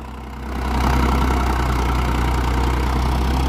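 Unmodified, factory-stock tractor diesel engine idling nearby, a steady low throbbing rumble that swells slightly in the first second and then holds even throughout, with no speech.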